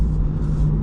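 Steady low engine rumble from inside a moving Corvette C8 sports car, a constant deep drone with no voices.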